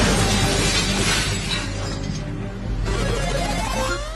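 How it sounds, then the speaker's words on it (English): Several sheets of glass shatter in a blast-resistance test, a loud, sustained crash of breaking panes and scattering debris that continues for about four seconds with a brief dip midway. "Five sheets of glass were broken in that test."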